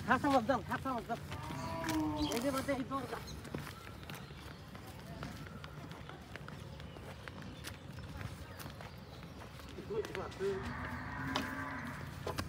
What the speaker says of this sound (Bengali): বাছুরটা অনেক বড় সর হয়েছে মাশাআল্লাহ